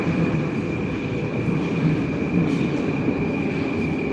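A Moscow metro subway train running, a steady loud rumble and rolling rail noise with a sustained high whine, continuous throughout with no talk.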